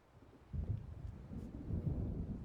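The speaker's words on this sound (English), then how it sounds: "It seems there's a storm coming." Low thunder rolls in from an approaching storm in the Alan Wake video game, a deep rumble that swells after a quiet start and keeps grumbling at moderate, distant loudness.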